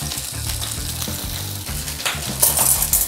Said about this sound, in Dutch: En dan krijg je dus een perfect gebakken worst zonder dat het hier één grote rommel is.